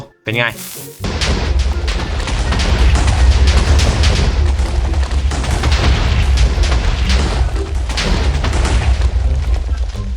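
A sharp blast kicks off a long, loud stretch of booming, crackling Minecraft mod TNT explosions that rumble on without pause.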